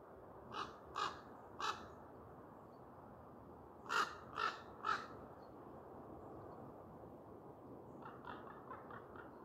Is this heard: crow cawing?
yes